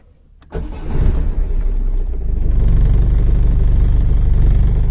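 A VAZ car engine cranks and catches without the choke, a sudden loud start settling into a steady close rumbling idle that grows slightly louder, with no speech.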